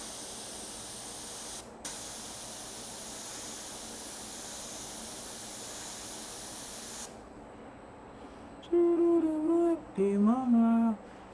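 Steady hiss of an aerosol spray paint can held for several seconds, briefly pausing, then stopping before a couple of short whistling tones.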